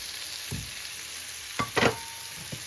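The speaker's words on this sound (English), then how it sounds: "And now I am going to stir in the steak." Steak strips being stirred into a hot pan of browned onions and tender-crisp peppers, giving a few short scraping, sizzling bursts against a low frying hiss, with no talking.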